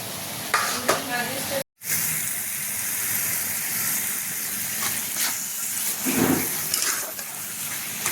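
Mushrooms fry over high heat, giving off a steady, dense sizzle with hissing steam as they release their water, loud and close with brief stirring movements and a short gap of silence.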